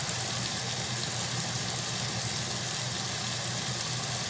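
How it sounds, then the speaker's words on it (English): A washing machine runs a spin cycle after its drive belt was tightened, giving a steady, dense mechanical hum and rumble at constant loudness with no clunking, heard close up and without any talk. "so yeah, we'll see for the spin cycle."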